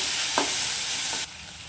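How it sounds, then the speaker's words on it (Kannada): Tomatoes fry in a pan with a dense, even sizzling hiss and two short spatula scrapes, and the sizzle drops sharply in loudness near the end. No talking. "ಇದನ್ನು ಅಷ್ಟೇ ನೀಟಾಗಿ ಫ್ರೈ ಮಾಡ್ಕೊಳ್ಳಿ."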